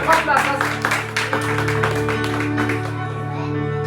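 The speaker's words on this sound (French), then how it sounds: "Est-ce qu'on peut applaudir le Seigneur?" A church congregation applauds during a special mission service, a dense wash of clapping with voices mixed in over a steady background of sustained music, fading slightly toward the end.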